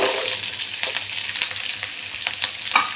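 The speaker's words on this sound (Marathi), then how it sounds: "आता आपलं तेल गरम झालंय आता यात घालून घ्यायचं आपल्याला एक चमचाभर जिरे नंतर आपल्याला घालायचं हा कांदा" Cumin seeds and onion sizzle and crackle in hot oil for a Marathi onion thecha, a continuous close frying hiss broken by scattered sharp pops and stirring clatter.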